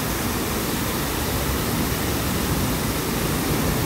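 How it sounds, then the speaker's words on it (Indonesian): An artificial waterfall with natural-looking rocks in a park in Tsuen Wan rushes as a dense, steady, loud roar of falling water that fills the whole short stretch without pause. "Tapi ini bagus banget loh air terjunnya."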